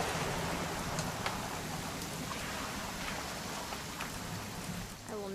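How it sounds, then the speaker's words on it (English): Steady rain in the video game What Remains of Edith Finch hisses over a surface, dense and even throughout, with occasional faint drips and a brief tonal chirp near the end. "It's gonna rain the whole weekend, isn't it?"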